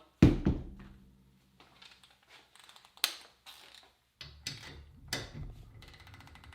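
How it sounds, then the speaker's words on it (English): Snap-on TechAngle torque wrench giving sharp mechanical clicks and ratcheting clatter, a loud initial snap followed by a series of smaller clicks and thunks at close range, with no talk. "Really nice clicks. The CRAFTSMAN does not have the same amount of clicks as the snap-on."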